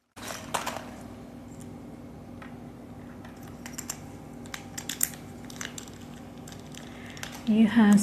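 Tarot cards are shuffled with faint, scattered papery taps and flicks in a quiet room. A louder rustle of handling comes near the end.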